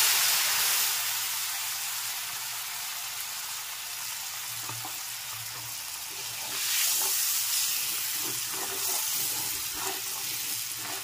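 Chilli, turmeric, coriander and Kashmiri chilli powders, loosened with a little water, fry among tempering spices in a pan for a Bengali niramish aloo dum, giving a steady close sizzle and hiss that rises again partway through, with no talking.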